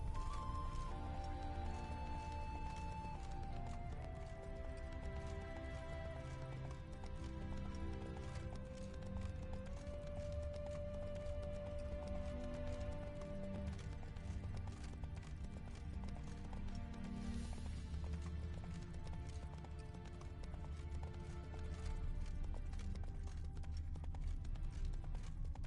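Roach the horse's hooves clip-clopping in a video game, a steady footfall rhythm running under a continuous music score, with a possible brief whinny partway through.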